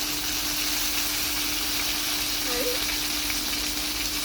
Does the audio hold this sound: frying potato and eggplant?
yes